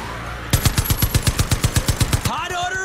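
A machine gun fires a rapid, evenly spaced burst of about fifteen loud, close shots at zombies in the video game Far Cry 5, then stops, leaving a ringing tonal tail.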